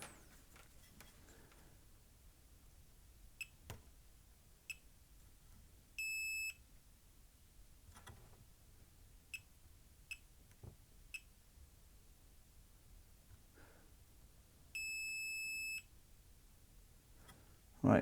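A test meter in diode check mode on a faulty Sony XPLOD audio amplifier gives two sustained electronic beeps, roughly nine seconds apart, amid scattered small clicks of probes touching components in a quiet room.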